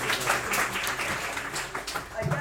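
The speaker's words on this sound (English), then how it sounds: "Applause to you." An audience at a public talk applauds; a wash of clapping runs under a voice speaking nearby, with the talk partly masking the claps.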